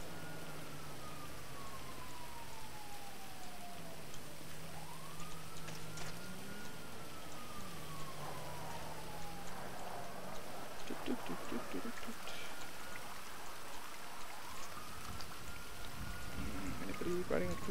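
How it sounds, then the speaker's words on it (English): Steady rain falls across a GTA 5 Online street scene, a constant wash under the whole stretch, with sirens gliding up and down and passing traffic rising toward the end. "Is it too rainy?"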